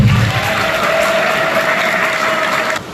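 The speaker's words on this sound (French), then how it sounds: "Applaudissez pour le Seigneur" Congregation at a Catholic first Mass applauding together, a dense, even wash of clapping that holds steady for about three seconds before tapering off.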